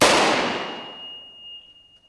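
A single sharp gunshot from a Border Security Force soldier's firing drill cracks loudly up front, then decays into a fading ringing tail with no voices.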